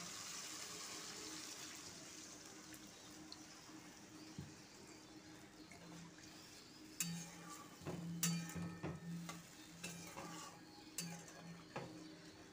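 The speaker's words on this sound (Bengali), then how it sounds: "এবার দিয়ে দিচ্ছি মশলার বাটি ধোয়া জল, 1 বাটি জল।" Water from rinsing a spice bowl is poured into a simmering aar fish curry, a faint splash and trickle with a few soft clinks of the bowl against the pan, quiet and close.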